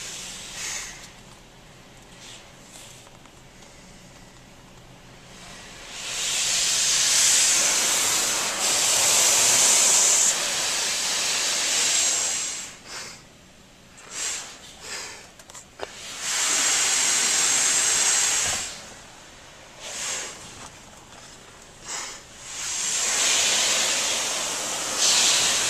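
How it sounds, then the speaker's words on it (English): A Laserwash 4000 automatic car wash sprays its spot-free rinse in several loud, hissing bursts of water lasting a few seconds each, separated by quieter pauses with faint knocks. "Now it's doing the spot-free rinse."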